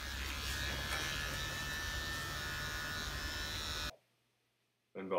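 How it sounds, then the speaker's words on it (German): An electric hair clipper runs during a men's haircut with a steady, close, loud buzz that cuts off abruptly, leaving near silence before the buzz returns at the end. "wenn ich mit der Maschine so über die Haut drüber fahre, könnte es ein bisschen kratzen"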